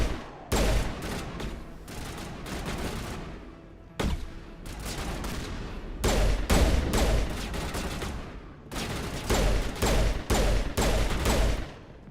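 Repeated bursts of gunfire in Mass Effect Legendary Edition combat, sharp volleys in several clusters separated by brief pauses, loud and close with no talking.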